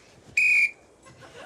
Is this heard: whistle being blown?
yes